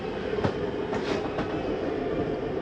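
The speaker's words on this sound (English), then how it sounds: "We're going to hit retract. Just going to bring our slide in." The slide-out of a 2023 Jayco Jay Feather 30QB travel trailer retracts with a steady, low mechanical rumble and whirr, with faint clunks throughout and no voices.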